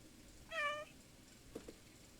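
A cat in the video game Stray gives one clear harmonic meow, followed by a couple of soft short sounds, fairly quiet over a low background.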